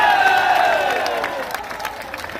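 A crowd cheers at a political rally at a crossroads in Burhanpur, a dense, steady roar of many voices with sustained tonal shouts or horns sliding downward, loud and close throughout.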